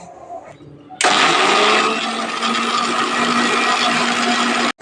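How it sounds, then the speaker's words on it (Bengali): Mixer grinder jar whirring loudly as it blends whole spices, garlic and a little water into a paste for egg biryani, starting abruptly after a second of quiet and running steadily before cutting off. "সামান্য জল দিয়ে আমরা মিক্সিং জারের ঢাকনাটা বন্ধ করে ভালো করে মশলাটাকে পেস্ট করে নেব"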